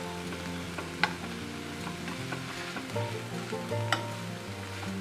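Mac puff pizza stuffing sizzles in a pan while a spoon breaks it up, a steady frying hiss with occasional clinks and scraping stirs, fairly quiet and close.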